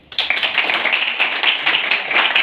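Students in a classroom clap together in a dense, steady burst that starts abruptly and keeps up evenly for a couple of seconds, fairly close and loud, with no talking over it.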